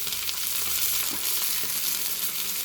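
Malenadu-style fish fries in a pan with a bright, dense sizzle that runs evenly throughout, close and fairly loud, with faint stirring and crackle textures beneath.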